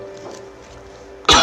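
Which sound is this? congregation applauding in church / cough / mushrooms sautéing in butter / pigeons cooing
cough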